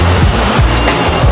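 A Staten Island commuter train rumbles loudly nearby, its wheels clacking in a regular rhythm over a heavy, continuous roar.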